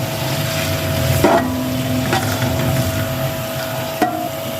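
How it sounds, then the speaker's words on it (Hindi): Onions frying with cumin seeds in hot ghee, a steady close crackling sizzle throughout, with a few sharp scrapes and clicks from stirring as the mixture is turned in the pan. "अब हम इसमें ज़ीरा डालेंगे। हम इसमें प्याज डालेंगे, तो अच्छी तरह हिलाएंगे।"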